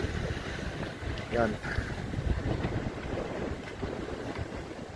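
Strong wind buffets the microphone in gusts on an island shore, roaring steadily with the sound of big waves beneath, while a voice speaks briefly.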